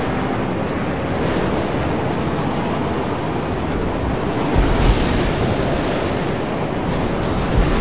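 A howling wind storm in the Mad Max video game roars as a dense, continuous rush of noise with occasional heavier gusts, loud and enveloping, with no voices.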